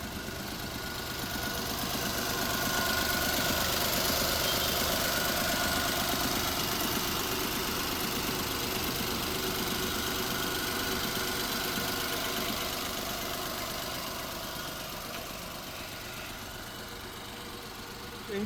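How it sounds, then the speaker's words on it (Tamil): A 2015 Datsun Go Plus petrol car idles steadily and close by, its engine holding an even, continuous hum with a light mechanical clatter for the whole stretch, easing slightly quieter near the end. "நம்ம அந்த வண்டியோட இன்ஜினை ஸ்டார்ட் பண்ணி இன்ஜினோட சவுண்டை காட்டிடலாம்"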